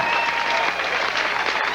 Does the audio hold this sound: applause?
yes